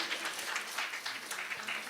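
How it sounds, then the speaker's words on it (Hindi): A crowd claps in a fairly dense, steady patter, heard from a moderate distance, at a Hindi poetry book launch ceremony. "एक बार तालियों के साथ अभिनंदन"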